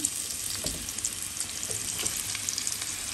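Onion, ginger-garlic paste and ground spices fry in a pan, a continuous close sizzle with scattered scraping and tapping of a spoon stirring the mixture.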